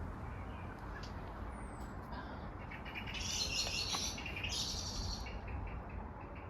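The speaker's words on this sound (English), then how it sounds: "Blackbird." A blackbird sings in a spring container garden in the UK, its bright phrases rising over a steady outdoor hiss at moderate distance.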